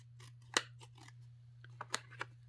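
Scissors cut paper for a junk journal in a few close, crisp snips spaced irregularly over a quiet, steady background hum.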